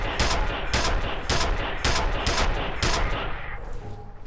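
Rapid repeated gunfire bursts in the shooter video game F.E.A.R., roughly six loud heavy shots in steady rhythm, fading into ambient game noise at the end, with no talking over it.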